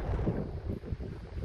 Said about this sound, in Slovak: Ale vietor je určite.